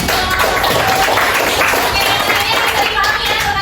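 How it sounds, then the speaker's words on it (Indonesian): Audience clapping at an Indonesian school arts presentation on the Betawi solo mask dance, a steady dense wash of applause and crowd noise throughout. "boleh kasih tepuk tangan untuk kalian"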